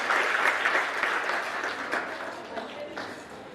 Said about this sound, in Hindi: बच्चों जोरदार तालियां बजाते हैं।